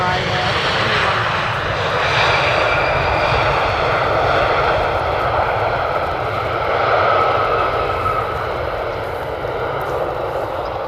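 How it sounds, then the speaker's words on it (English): KLM Cityhopper Embraer jet arriving at Amsterdam Schiphol on the Polderbaan runway from Prague, a loud, steady engine roar that swells and eases slightly as it passes, with no talk over it. "A city hopper coming in from KLM, Prague to Amsterdam. This is an Embraer."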